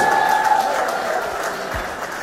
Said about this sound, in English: Let's appreciate them with one good round of applause.